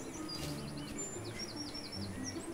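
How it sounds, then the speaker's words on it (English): Repeated bird chirps and tweets from the Stranded Sails game, a steady sequence of short high calls over an ambient bed, moderately loud with no talk. "Oh, hey bird, what's up?"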